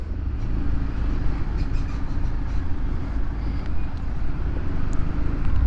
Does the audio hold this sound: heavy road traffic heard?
yes